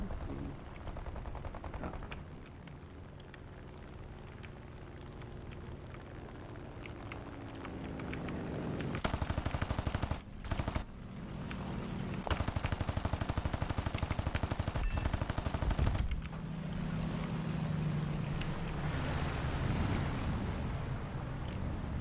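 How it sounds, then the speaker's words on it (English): Aircraft machine guns chatter in a World War II flight combat game with a Yak-3U in the air, long rattling bursts over a constant engine drone, growing louder and denser in the second half; a voice briefly exclaims. "I hear machine guns going off?"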